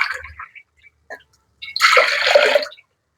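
Water poured over lentils for spinach dal, a few short splashes followed by a louder sustained gush of about a second, close and alone.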